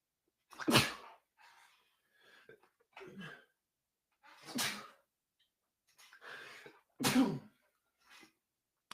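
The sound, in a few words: sneeze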